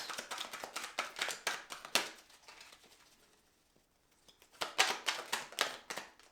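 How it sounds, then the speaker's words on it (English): Tarot cards are shuffled in quick, rhythmic riffles of soft, close clicking taps. A quiet pause follows before another run of shuffling. "Won't let me shuffle anymore."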